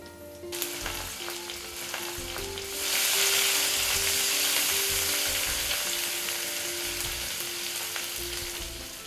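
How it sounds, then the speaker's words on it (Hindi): Grated ginger hits a hot pan of oil with ajwain for dahi arbi sabzi; a steady sizzle swells louder once it goes in and keeps crackling evenly. "यहाँ मैं डालूंगी इसके अंदर ग्रेटेड अदरक"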